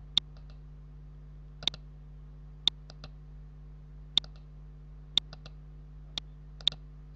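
A computer mouse clicking on a Scratch sprite, sharp close clicks repeating about every second and a half, each followed by a fainter secondary tick, over a low steady hum.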